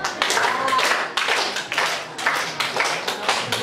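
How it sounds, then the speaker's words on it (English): A classroom of students claps together in a rhythmic round, loud broadband bursts of hand claps repeating about every half second throughout, close and busy. "Very good, and give them 10 round of applause."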